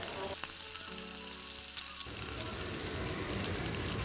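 Chicken liver, gizzard and chicken breast sauté for chopsuey in a hot pan, giving a steady, close sizzle that runs through the whole stretch, with a faint humming tone in the middle.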